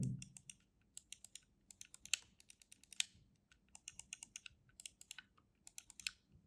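Mechanical micro switch buttons on a GameSir Cyclone 2 controller are pressed in quick, crisp click bursts, sharp and close but fairly quiet, with short pauses between runs of tapping.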